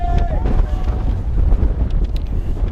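Strong wind buffets the microphone during a running race up the Mount Washington Auto Road, a steady low rumbling roar with gusty surges throughout, close and loud.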